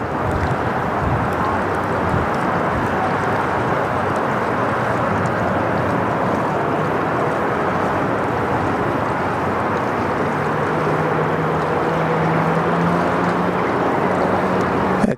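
An airliner coming in to land on runway 34 Right at Sydney Airport makes a steady, broad jet roar with wind buffeting the microphone throughout.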